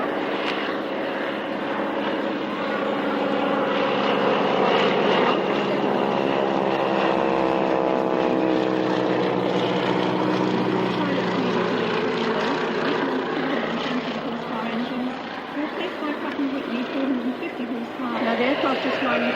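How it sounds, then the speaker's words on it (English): The world's largest single-engine biplane drones past at a 1996 Fairford International Air Tattoo airshow, a loud sustained propeller-engine roar that swells and shifts in pitch as it passes, with a commentator talking over it. "Now the aircraft is flying in front of you. Well, that's the Maritime, the world's largest single-engine biplane."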